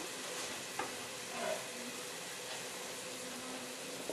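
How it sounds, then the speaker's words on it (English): Ground beef sizzling in a pan, a faint, steady broadband hiss of frying with a couple of soft stirring clicks, continuous and without voices. "there's our ground beef in this pan right here"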